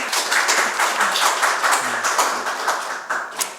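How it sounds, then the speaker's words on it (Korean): A church congregation breaks into steady applause, a dense wash of many hands clapping together, fairly loud and sustained throughout. "우리 이렇게 박수 보냅시다"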